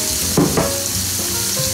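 Beef added all at once to a frying sauce base for arroz tapado, loud steady sizzle with a couple of sharper crackling bursts as the meat hits the pan.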